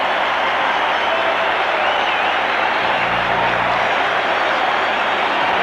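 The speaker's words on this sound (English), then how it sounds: "you can hear the applause here at Maple Leaf Gardens for Börje Salming" Sustained applause from a standing crowd for Börje Salming at Maple Leaf Gardens during a 1976 Canada Cup hockey game, a steady wash of clapping that fills the building without pause.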